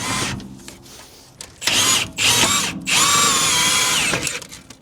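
Power tool spinning out a rear suspension arm bolt on a VW Passat, short bursts of high whirring that end in a long sustained run, close and loud.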